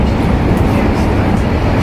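Steady low rumble of a high-speed bullet train running toward Florence, heard from inside the carriage as a continuous loud drone with no distinct clacks.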